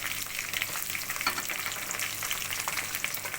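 Chopped onions fry in oil with browned garlic in a pan, a steady, close, dense sizzle that continues unbroken with no voices.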